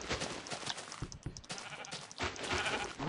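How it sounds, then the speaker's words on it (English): Sheep bleating in the Minecraft video game, several short bleats close by in a busy stretch of game sound, with a louder cluster near the end. "Ooh, yeah, black sheep."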